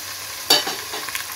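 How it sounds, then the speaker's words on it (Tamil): Tomatoes hit a pan of sautéed onions for a Tamil fish curry, giving a sudden sizzle and then soft stirring scrapes over a steady frying hiss, close up with no voices. "இப்போ தக்காளி போடுறோம்."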